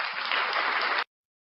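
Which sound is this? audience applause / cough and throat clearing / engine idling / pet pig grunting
audience applause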